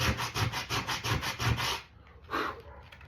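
Coarse 40 grit sandpaper scrubbing back and forth across a wooden serving tray, loud rhythmic rasping strokes close up for about two seconds, then a pause and one more stroke.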